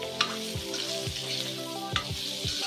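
Jackfruit pieces frying in oil with turmeric, stirred in the pan: a continuous close sizzle with several scraping strokes of the spatula.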